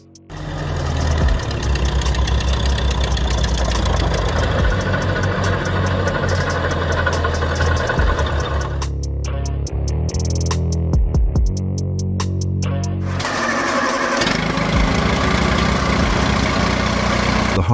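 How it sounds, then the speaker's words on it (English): An Oliver OC3 crawler tractor with a Hercules four-cylinder, 134 cubic inch gasoline engine runs nearby in a loud, rapid, steady chugging. The sound thins briefly midway, then returns at full strength. "The heart of the Oliver OC3 was its Hercules four-cylinder gasoline-powered engine"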